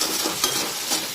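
Masala for paneer bhurji, loosened with a splash of water, sizzles in a hot pan while being stirred, a dense continuous hiss with soft scraping pulses of the spoon.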